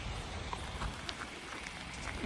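Rain falls outdoors on a used-car lot, a steady, soft, even hiss of drops pattering on surfaces with no voices over it.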